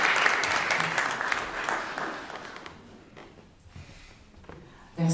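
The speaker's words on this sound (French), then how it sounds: "Des applaudissements, s'il vous plaît." Audience applause at a book presentation about Lumumba, loud at first and then fading over a few seconds, with a brief burst of clapping returning at the very end.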